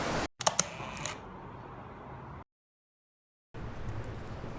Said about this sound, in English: let's take a few pictures around here and see how it goes